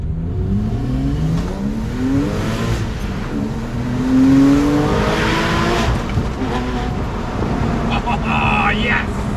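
A Porsche 997.1 Carrera 4S with an X-pipe exhaust and 200-cell catalysts revs heard from inside the cabin with windows down, engine pitch sweeping up and falling over road and wind noise, with speech briefly over it.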